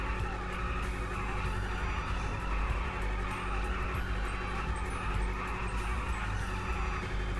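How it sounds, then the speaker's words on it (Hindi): Steady rumbling idle of a motorcycle engine nearby, a continuous low throb with slight fluctuations, no speech. "गाड़ी की आवाज़ बड़ी अच्छी है भाई, ज़बरदस्त है गाड़ी की आवाज़"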